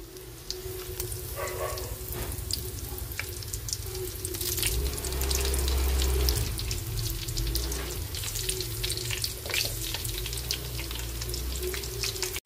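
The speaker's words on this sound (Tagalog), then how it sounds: "Magpiprito na tayo ng talong" Steady hiss and crackle of eggplant frying in hot oil, close and continuous, with occasional pops and a low rumble underneath.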